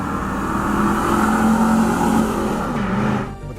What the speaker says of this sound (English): We have the 1998 Pontiac Firebird Trans Am WS6.